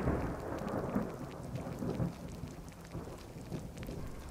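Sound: rain and thunder in Skyrim video game

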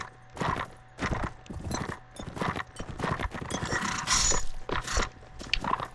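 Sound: video game deer making horse-like sounds

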